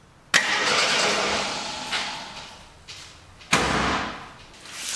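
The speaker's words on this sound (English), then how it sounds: "So I'm just going to crank it over, make sure the motor's not frozen, and that it works." A 1972 Jeep Commando engine that sat for almost ten years cranks over twice, each burst starting sharply and churning loud and steady before cutting off, with a short pause between them.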